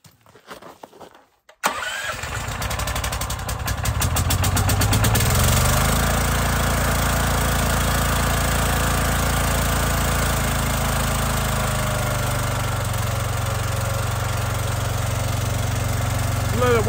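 A firewood processor engine cranks briefly, catches and roars to life, then settles into a loud, steady rumbling idle as it warms up, heard up close and alone.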